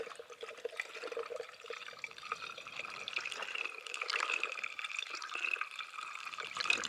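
Liquid pours slowly and steadily into the vent of an RV fresh water tank, a close, continuous splashing trickle with no speech over it.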